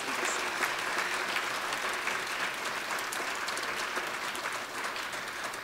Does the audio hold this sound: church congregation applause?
yes